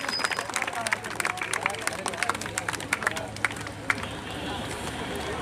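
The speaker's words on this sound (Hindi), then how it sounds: "बजाओ ताली, एक बार ताली बजाते रहो दर्शक।" Spectators at an outdoor kabaddi tournament clap in quick, scattered rhythm beneath a loudspeaker commentator's steady talk, the claps close and sharp over a low crowd murmur.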